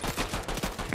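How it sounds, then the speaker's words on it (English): Gunshots in the video game Fortnite: a quick series of several close, punchy shots in an uneven rapid rhythm over about a second, loud and with no talk. "He just shot me."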